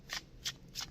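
Tarot cards shuffled close by, giving three quick, crisp riffling bursts evenly spaced within a second, with no talking.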